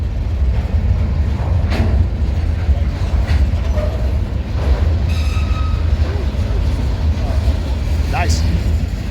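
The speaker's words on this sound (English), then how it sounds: "Yeah, I love coal hoppers like this" Freight train of Chicago Northwestern coal hoppers rolling steadily past with a continuous low rumble and faint wheel clicks, with occasional voices and sounds from trackside onlookers.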